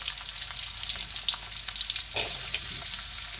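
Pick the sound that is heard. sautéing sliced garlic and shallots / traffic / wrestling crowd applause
sautéing sliced garlic and shallots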